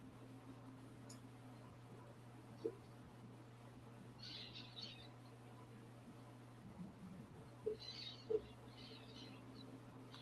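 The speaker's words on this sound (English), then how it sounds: "those birds are pretty loud" Birds calling outdoors in short, bright chirping bursts that come and go at moderate distance over a steady low electrical hum, with no one talking.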